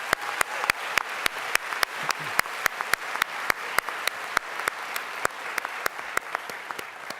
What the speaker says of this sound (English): I'd like to give the students another round of applause because they certainly deserve it.